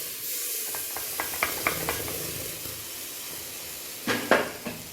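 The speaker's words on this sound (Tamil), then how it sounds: "பருப்பை சேர்த்துட்டு இதை ஒரு நல்லா மிக்ஸ் பண்ணிக்கோங்க." A spoon scrapes and clinks against a pan in short strokes, stirring lentils for rava pongal over a soft sizzle, with a few louder scrapes near the end.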